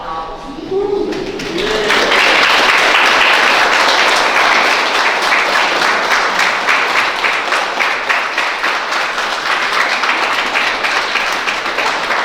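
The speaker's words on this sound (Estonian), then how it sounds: "külalised võivad teile teha aplausi" Wedding guests break into steady, close applause for the newly married couple at their ceremony; after a brief quiet opening, dense clapping fills the space and carries on evenly to the end.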